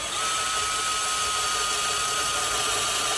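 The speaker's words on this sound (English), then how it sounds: "So now we're drilling behind the back seat area," A power drill bores behind the back seat of an M3 car during an inspection, running as one steady, loud, continuous high-pitched whine close by, alone.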